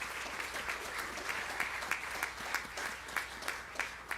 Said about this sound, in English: Let's give Cyrus One a round of applause.